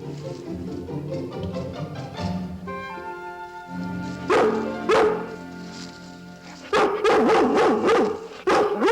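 A dog on a campout barks and yips in short bursts, a few sharp close barks separated by pauses and whimpering, with faint music in the background.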